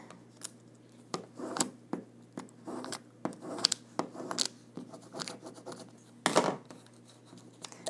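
A squeegee burnishes vinyl transfer tape onto an acrylic keychain blank, making repeated short scraping and rubbing strokes in irregular bursts, close and fairly crisp, with no voices.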